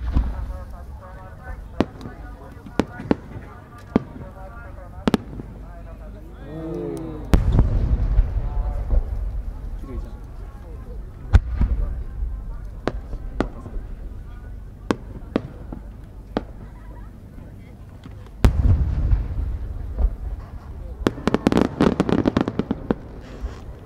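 Repeated sharp fireworks bursts and crackles at the Omagari fireworks competition in Japan, some loud and close, with deep booming thumps and a dense crackling flurry near the end, amid crowd murmur.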